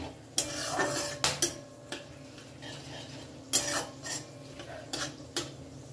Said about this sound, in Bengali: ভালো করে এটা আমি কয়েক সেকেন্ড একটু